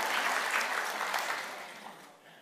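A church congregation at a Sunday service applauds briefly and softly, the clapping fading away over a couple of seconds.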